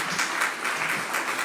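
Brief, steady applause rises from a crowd at the close of a political assembly presenting Vota Sardigna for the 2024 Sardinian elections, a dense patter of many hands without clear voices.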